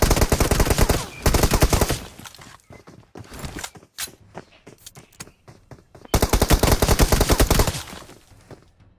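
Rapid automatic gunfire in the mobile game Free Fire crackles in loud dense bursts, one at the start and another near the end, with scattered single shots and footsteps between.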